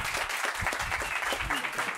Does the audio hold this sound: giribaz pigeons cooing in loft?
no